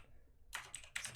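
Computer keyboard typing while setting up a Sublime Text build system: after a quiet moment, two short bursts of key clicks, close and crisp.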